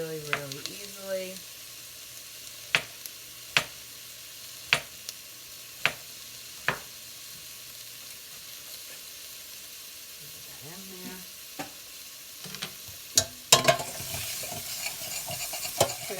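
Sliced garlic and onions fry quietly in a pan, a faint continuous sizzle broken by sharp clicks and taps of a utensil against the pan, with some talking early on and near the end.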